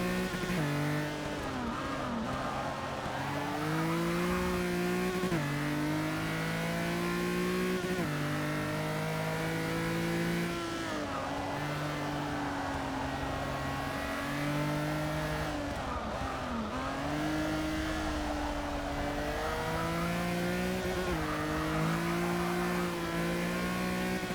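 Race car engine in the Forza 6 racing game, revving up and down through repeated gear shifts with rising and falling whine, continuous and loud, with occasional tire noise through corners.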